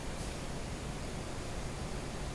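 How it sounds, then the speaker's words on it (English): A steady, faint whirring hum of a running dishwasher fills the background, unchanging throughout. "if you hear that little buzzing going on in the background, that's my dishwasher"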